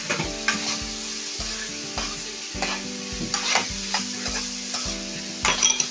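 Shrimp being stir-fried for Yang Chow fried rice, with a constant sizzle and brisk, rhythmic scraping and clanking of a spatula against the pan, close up and with no voices.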